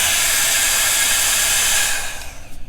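A 1,300-watt hair dryer blows with a steady, loud airy roar, then cuts off near the end and winds down.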